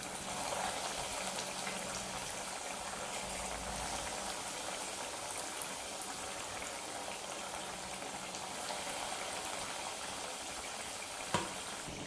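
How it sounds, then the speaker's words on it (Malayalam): Chicken cutlets dropped into hot oil one by one over a medium flame, giving a steady, even frying hiss throughout with a small clink near the end. "ഓരോരോ കട്ട്ലറ്റായി ഓയിലിലേക്ക് ഇട്ട് കൊടുക്കാം."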